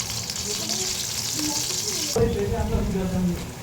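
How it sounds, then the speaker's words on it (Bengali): Onions sizzle as they are added to hot oil for a Bengali curry, a steady hiss with frying crackle that swells suddenly midway, with faint background noise throughout. "তেলের গরম হয়ে গেছে তো, এখন পেঁয়াজ দিয়ে দিলাম"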